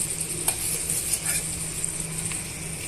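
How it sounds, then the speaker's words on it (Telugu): Chopped okra fries with tomato and onion pieces in a pan, a quiet steady sizzle with a few scraping stirs and light clinks, no talking. "ఇవన్నీ కూడా ఈ టమాటా ముక్కల్లో ఉల్లిపాయ ముక్కల్లో వేసుకొని వేయించేసుకోవాలి"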